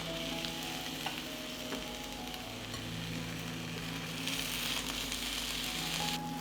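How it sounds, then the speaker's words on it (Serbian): Slices of eggplant fry in hot olive oil with a steady, dense sizzle and crackle that carries on unbroken, close and fairly loud, with no voices. "Na zagrejano ulje spuštam patliđan i pržim po 2 minuta sa obe strane."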